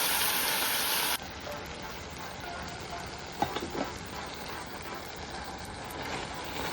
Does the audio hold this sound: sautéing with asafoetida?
yes